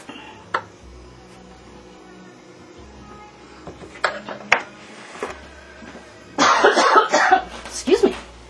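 A few short coughs and throat clearing nearby, with a burst of harsher coughing in the middle, amid quiet kitchen clinks and faint voices.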